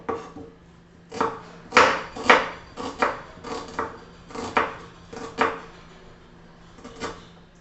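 An onion is thinly sliced with a knife for a summer koshimbir salad, with about a dozen crisp, close knife strikes on a cutting board coming in an uneven rhythm, all without talk.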